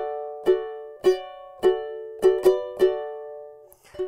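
Ukulele strumming the chords of a song, with six bright, evenly spaced strums ringing out close and clear, followed by a softer scratchy stroke at the end.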